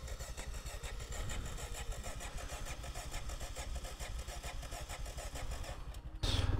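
A Royal Enfield-era Dominator motorcycle engine fires up after fuel is drained from the float chamber, settling into a steady, running-rich idle with a rapid even beat, close by, and a louder burst near the end.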